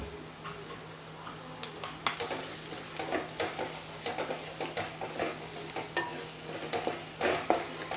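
Onion masala paste for pepper chicken fries quietly in a pan while a spoon scrapes through it in a steady, rhythmic series of stirring strokes over a soft sizzle and a low, constant hum.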